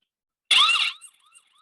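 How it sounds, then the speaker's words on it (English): Brief loud electronic siren from a Laview security camera, a single sharp wailing burst of under half a second with a fading echo tail, alone in silence. "the other one is the siren, how the siren sound"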